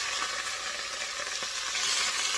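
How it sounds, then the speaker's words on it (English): Tomato sauce for Mexican rice cooking on a stovetop over medium heat, giving a dense, continuous sizzle and crackle, close and even throughout. "make sure you cook the tomato sauce for about 2 to 3 minutes"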